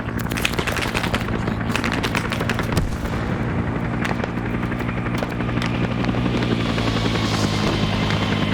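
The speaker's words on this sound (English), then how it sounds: "Chopper's waving off." A helicopter's rotor throb runs loud and steady throughout a Vietnam war game firefight, with rapid bursts of rifle and machine-gun fire crackling over it and scattered sharp shots and thuds.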